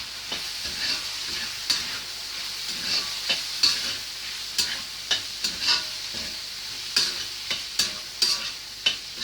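Samosa vegetable filling seasoned with turmeric and black pepper is stirred in a sizzling pan, with a steady frying hiss and a spoon scraping in irregular strokes every second or so.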